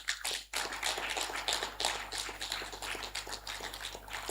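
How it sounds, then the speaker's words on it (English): Audience clapping at a conference session welcoming a publisher and author, a moderate patter of hand claps from a seated crowd, fairly faint and continuous throughout. "Please, can we clap for her?"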